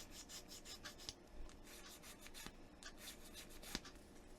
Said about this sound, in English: a file rather than a sanding stick, because a file will only take the high points off